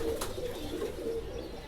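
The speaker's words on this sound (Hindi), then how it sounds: "इसके अंदर काफ़ी समझना अच्छे अच्छे कबूतर भी हैं" Breeder pigeons in a coop coo in a low, droning run that holds steady through the brief moment, faint and close, with no talk.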